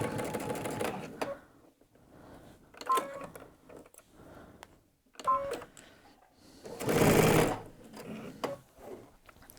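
A domestic sewing machine stitches a gathered sleeve seam on a Tamarack jacket in short separate bursts of close whirring, with quiet pauses between runs and one longer, louder burst near the end.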